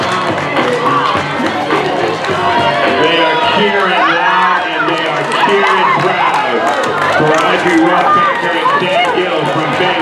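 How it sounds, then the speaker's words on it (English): A crowd of spectators at the finish of a 10k road race in Freeport, Maine cheers and shouts continuously, a dense, loud wash of voices and whoops heard close up without pause. "They are cheering loud and they are cheering proud."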